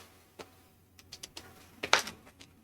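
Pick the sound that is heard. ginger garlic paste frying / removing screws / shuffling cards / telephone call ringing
shuffling cards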